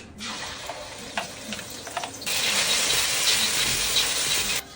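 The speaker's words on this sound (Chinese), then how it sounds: "锅里有点油，先来炒鸡蛋" Eggs hitting hot oil in a wok, a faint clatter first, then a sudden loud, steady sizzle that holds for a couple of seconds before cutting off, with no talk.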